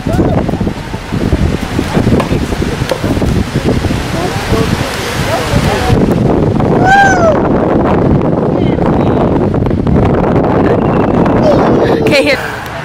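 Wind blows steadily across the microphone outdoors as a broad rushing noise through the whole stretch, with voices talking and a child's high calls over it.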